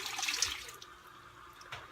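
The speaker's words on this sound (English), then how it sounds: "And then I'm gonna put in 2 cups of water." Water poured from a tap or jug into a pot of Quaker oats, a steady splashing hiss that is loudest at the start, then eases and surges once more near the end, close by with no talking.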